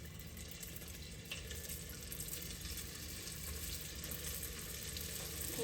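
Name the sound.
pork and vegetable egg rolls frying in oil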